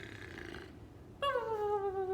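A woman reading a story aloud imitates a dragon princess snoring, voicing a drawn-out nasal snore, then a louder rising whistle-like tone that slowly falls, alone and close.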